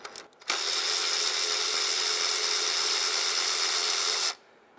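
A power tool whirs steadily for about four seconds while a 5/16 bolt is backed out of the VVT solenoid on a 2007-2015 Mazda CX-9 engine, loud and close, with brief handling noise before and after.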